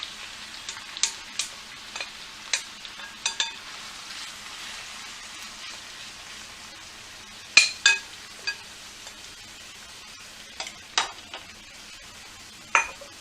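Okra and tomato cooking in a cast iron skillet, a steady soft sizzle beneath scattered sharp clinks of a utensil against the pan.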